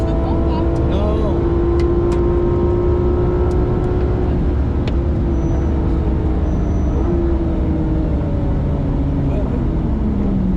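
Race car on a track accelerating out of a corner during a driving coaching session, with a loud, sustained engine drone rising steadily in pitch and people talking over it.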